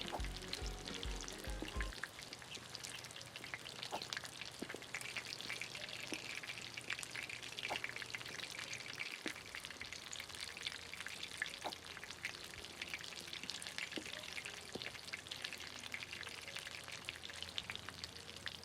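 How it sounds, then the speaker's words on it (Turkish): French fries crackle and hiss in a deep fryer in the cooking game Kebab Chefs Restaurant Simulator, a long, steady sizzle with scattered pops, briefly joined by low thumps at the start. "patates kızartması."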